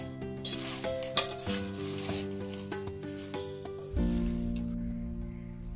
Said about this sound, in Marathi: कांदा खोबरं काकडी हे सर्व जिन्नस आहेत ते मी आता ह्या पोह्यांमध्ये व्यवस्थिततेचा मिक्स करून घेते